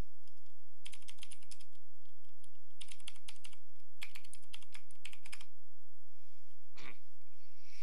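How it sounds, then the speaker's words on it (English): Bursts of computer keyboard typing come in several quick clusters of close, crisp key clicks, with a single sharper tap near the end. "I just typed in something"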